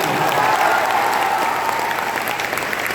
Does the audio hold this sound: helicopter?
no